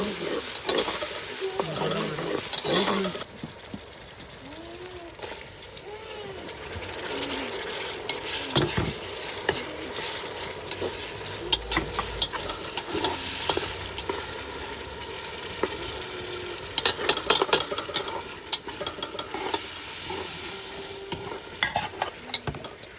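Mutton gravy being stirred in a pot cooked over a wood fire, with a steady scraping stir and bubbling sizzle that carries on throughout, close and fairly loud, with no talking.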